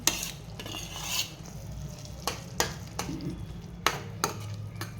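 Roughly chopped paneer, about 200 grams, being stirred into capsicum in a pan: a steady low sizzle with a series of spatula scrapes and taps against the metal at irregular intervals, close and moderately loud, no talking.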